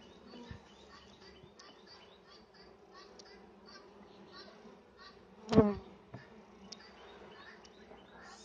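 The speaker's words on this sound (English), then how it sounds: "there are many bees, so we can't see the queen bee." Honeybees hum around an opened beehive during hive cleaning, a steady, faint insect drone with a sharper knock partway through and a few chirps in the background.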